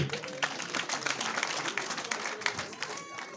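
An audience claps in a dense burst of applause, with voices mixed through the crowd noise.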